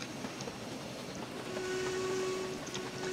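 LNER Austerity saddle tank steam locomotive running in Train Simulator 2022, a steady rumbling chuff and rail noise throughout with a sustained whistle-like tone entering midway and holding for about a second, no talk.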